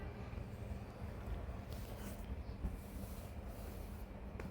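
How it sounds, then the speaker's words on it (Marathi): A low, steady rumble of a train passing on a route near a house, distant and continuous, with faint rattling and wind-like noise throughout. "ट्रेनचा आवाज पण मधातच येते"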